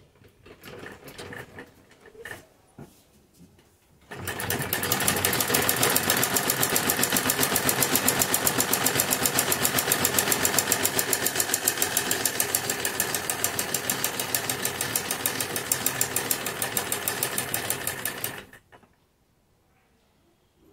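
A sewing machine stitches lace onto a kurti neckline, running in a fast steady whir of rapid needle strokes for about fourteen seconds after a few faint handling clicks, then stopping abruptly into quiet.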